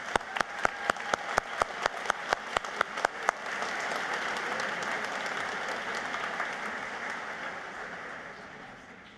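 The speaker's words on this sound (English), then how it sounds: "Please join me in a round of applause for all of our honorees." A commencement audience bursts into sustained applause for the honorees, following a run of single loud claps, then a dense wash of clapping from a large crowd that holds steady and slowly thins.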